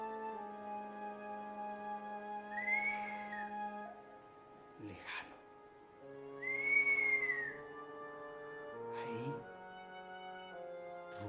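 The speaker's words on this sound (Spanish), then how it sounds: "un silbido" A distant, eerie whistle rises and falls in long drawn-out tones, twice, through a quiet jungle night, with soft swooping effects between the calls.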